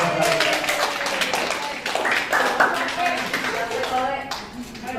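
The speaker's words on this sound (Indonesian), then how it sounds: "Tepuk tangan dong." Audience clapping at a school in-house teacher training as a presenter is invited up, a dense patter of hand claps with voices talking over it.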